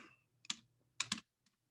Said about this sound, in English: that's some good typing right there